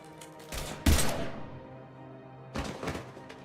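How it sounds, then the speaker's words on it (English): Gunfire in the video game Mass Effect 3: a few loud, close shots and bursts, with a heavy thump near the start and another volley later, separated by a short lull. "Now open fire!"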